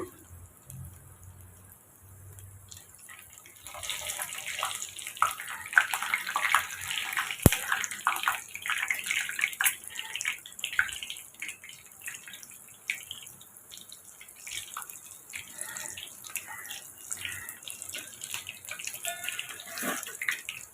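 Cutlets fry in a pan with a soft, steady sizzle and scattered crackles that rise after a quiet start and continue throughout.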